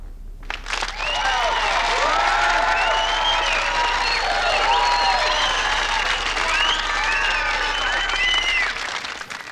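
Audience applause fills a talent-show stage as the next performer is introduced for a musical piece, a loud, sustained clapping crowd that swells quickly and holds steady for about nine seconds before cutting off.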